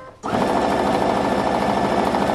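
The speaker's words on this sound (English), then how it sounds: "I know you can't see me sewing" A sewing machine stitches quilt-as-you-go string strips for a scrap sideboard quilt, starting abruptly after a brief quiet moment and then running at a steady, loud, continuous whir.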